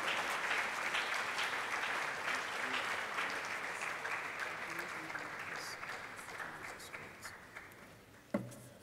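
An event audience applauds to welcome a speaker, a broad and even wash of clapping that slowly tapers. One louder knock lands near the end as the room settles.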